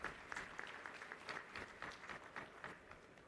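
Applause breaks out at a university convocation ceremony, a fairly faint spread of clapping from an audience with uneven bursts and a slightly rippling rhythm, heard from some distance.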